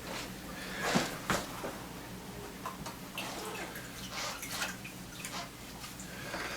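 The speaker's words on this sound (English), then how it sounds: "we're going to squeeze it out 3 times to get the water out of it." Water squeezed out of a soaked roll of fiberglass casting tape for a carpal brace cast, soft dripping and splashing bursts at close range, irregular and fairly quiet.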